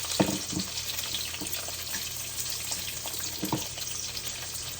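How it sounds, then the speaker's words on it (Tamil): Potato masala curry sautéing with mustard seeds, garlic, cumin, dried chillies and onion, a continuous soft sizzle with occasional spatters and spoon stirs, close and steady, with no voices. "பொட்டாட்டோ மசாலா கறி வதக்கி கொண்டிருக்கிறேன்"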